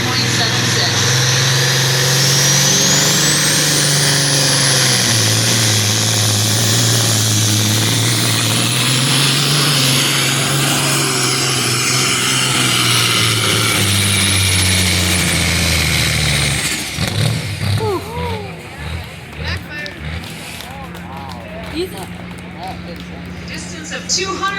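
A 1980 Kenworth truck roars at full power during a tractor pull, its engine note climbing with a rising high whine, then dropping abruptly to a rough, throbbing lower rumble.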